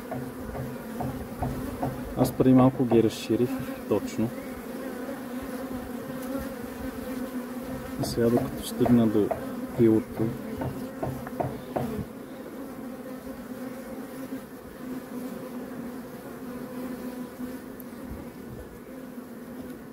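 Honey bees swarm around an opened top-bar hive, a dense, continuous buzzing drone close to the microphone, while someone talks over it in places and brief handling knocks sound.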